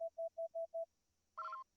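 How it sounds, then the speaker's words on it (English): Five short, evenly spaced electronic beeps followed by one longer, harsher buzzing tone sound on a loading screen in the 2024 Star Wars Battlefront Classic Collection video game, clean and quiet with silence between them. "the 2024 Battlefront Classic Collection release sounds like this"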